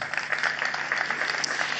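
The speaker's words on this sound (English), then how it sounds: "Round of applause for the government" An audience at the Homa Bay County International Investment Conference breaks into brief, steady applause, many hands clapping together in a hall for a couple of seconds.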